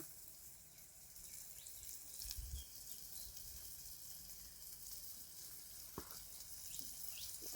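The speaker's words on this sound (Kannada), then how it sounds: "ಈಗ ನಾವು ಮುರಿಂಗ ಆಯಿತಾ, ನುಗ್ಗೆ ಸೊಪ್ಪನ್ನ ನಾವು ಇದಕ್ಕೆ ಆ್ಯಡ್ ಮಾಡೋಣ" Moringa leaves tossed into a pan of frying tomato, giving a faint, steady sizzle with a few soft clatters of stirring, quiet and close.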